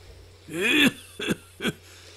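A voice imitates a rough, wheezy old man's cough: one long strained hack followed by two short, sharp coughs, close and clear.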